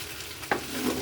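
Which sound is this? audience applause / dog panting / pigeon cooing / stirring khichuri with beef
stirring khichuri with beef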